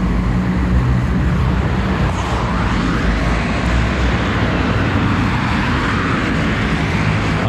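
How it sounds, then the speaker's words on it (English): Road traffic passing in a continuous loud rumble and hiss, with a vehicle swelling and receding near the middle and another building toward the end, no voices over it. "I'm listening to the traffic now."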